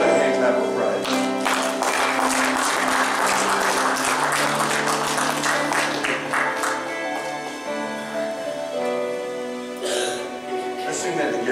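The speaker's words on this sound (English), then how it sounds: "Give Lord a hand clap of praise." Congregation in a church claps hands in praise, a dense, sustained patter of applause that carries on under a speaking voice and fades slightly before a brief final burst.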